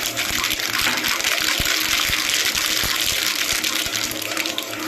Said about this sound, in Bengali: একদম সুন্দর করে ভেজে নেবো দেখুন ভাজা মশলা একটা দারুণ গন্ধ বেরোচ্ছে